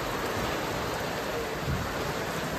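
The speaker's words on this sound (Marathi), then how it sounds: "काय जोरात पाऊस येतोय" Heavy rain pours down in a steady, dense broadband rush that stays even and unbroken throughout, with no voices.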